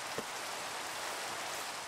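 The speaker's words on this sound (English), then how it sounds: "See, I don't like the rain." Steady rain in the Minecraft video game, a constant soft hiss of falling drops with one brief low thump near the start, no talk.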